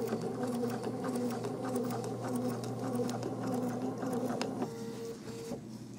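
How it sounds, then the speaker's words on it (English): A sewing machine stitches slowly around the edge of a quilt applique, giving a steady close mechanical whir with rapid needle ticking that shifts pitch slightly near the end. "I'm going to lower my presser foot, and now I'm going to start sewing"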